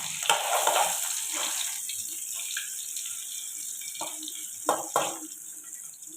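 Egg frying in a pan for egg fried rice, giving a steady broadband sizzle with a few sharper pops and spatters near the end, loud and close, with no talk.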